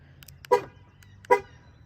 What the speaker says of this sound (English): It honks twice when you lock it.